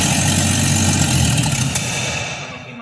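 A rebuilt 261 six-cylinder engine runs on its first start, a loud steady idle with an even low rumble that eases slightly toward the end.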